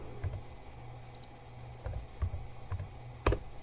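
Clicks from a computer keyboard as a few values are typed in: sparse, uneven keystrokes at close range, with a sharper tap near the end over a quiet room hum.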